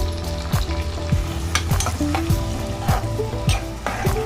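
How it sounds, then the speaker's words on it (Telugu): Mutton with fenugreek leaves frying in a pan, with a steady loud sizzle and repeated scraping strokes of a spoon stirring at a regular rhythm, close up and with no voices. "ఒక 2 నిమిషాలు ఫ్రై చేయాలి"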